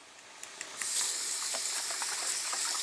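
Game day dish being mixed in a bowl, soft wet stirring and scraping that starts quiet and then turns into a steady, close, hissy churn with small clicks throughout.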